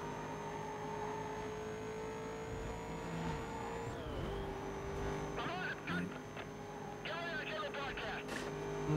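Racing cars in Need for Speed Most Wanted roar in a steady engine drone that shifts pitch as they accelerate, with brief tire squeals and passing bursts near the end, over continuous game sound.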